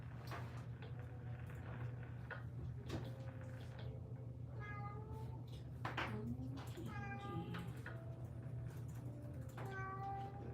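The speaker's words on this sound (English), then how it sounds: "I have another cat at the door." A cat meows at a door during a live drawing session, several distinct meows spaced over about ten seconds against a steady low hum, fairly near.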